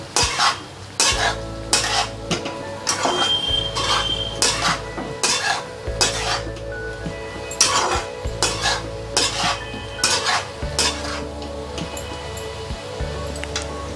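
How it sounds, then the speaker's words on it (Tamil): Chicken with salt and turmeric is stirred in a pan for Pallipalayam chicken: a spoon scrapes and clatters in a steady rhythm against the pan over a loud, continuous sizzle of frying. "நல்லா கிளறி விட்டுட்டு"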